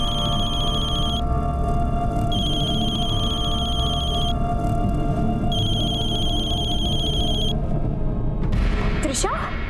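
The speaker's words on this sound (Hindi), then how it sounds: "बेल तो जा रही है लेकिन फोन नहीं उठा रही है" A telephone rings unanswered with repeated electronic ring bursts separated by short gaps, then stops. The rings sit over a low, steady background rumble.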